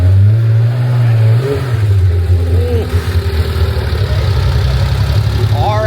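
A Lamborghini Temerario supercar engine revs loudly and steadily at close range, a deep continuous growl with rising and falling pitch, while people talk over it.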